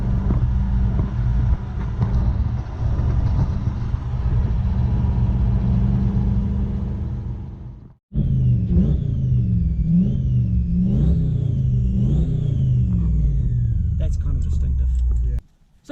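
A Toyota Hilux pickup ute with a 1UZ V8 and Gilmer belt drive revs loudly, the engine roaring with a high rising and falling whine riding over it, cutting out briefly then returning before stopping.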